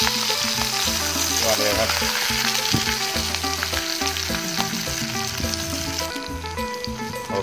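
Home-style beef steak searing in a frying pan gives a loud, continuous sizzle beneath background music, with someone briefly speaking.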